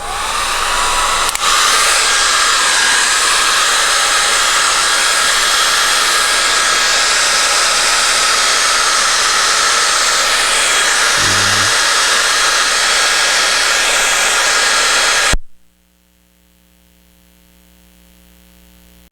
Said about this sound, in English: what I'm going to do first is going to dry this painting